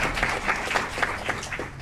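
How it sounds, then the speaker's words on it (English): An audience at an Aurora city council meeting gives a moderate round of clapping for Olympian Carl Lewis, with individual claps audible in a brisk, fairly even rhythm. "Big round of applause for Olympian Carl Lewis for reaching out to our kids here at Aurora."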